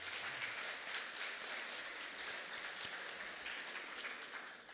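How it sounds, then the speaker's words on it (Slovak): A crowd at a Slovak heligónka accordion festival in Chocholná-Velčice applauds in a steady, dense wash of clapping that holds for several seconds before starting to fade. "Takže aj im patrí veľký potlesk."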